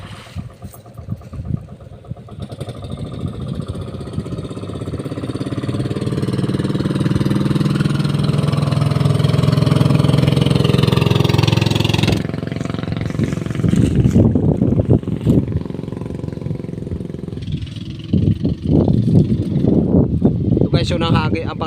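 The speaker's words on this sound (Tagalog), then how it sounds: "May parating na bangka, hagis muna" A boat engine approaching during fishing, a droning motor hum that swells louder and then cuts out abruptly, with a person talking over it before and after.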